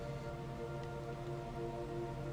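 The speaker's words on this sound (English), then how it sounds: "Uh-oh, it's raining." Steady rainfall patters continuously in a modded Minecraft world, a dense, even hiss with a low hum of tonal game sound underneath and no talk.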